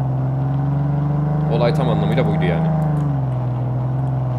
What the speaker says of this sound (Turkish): Yalnız şu araba sesi çok yüksek.